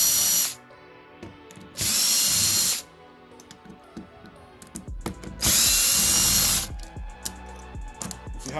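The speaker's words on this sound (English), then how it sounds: "So basically, grab your drill." A power drill backs screws out of a wooden caster board for a Chauvet Cumulus low fog machine, with three loud whirring bursts separated by quieter clicks and handling noise.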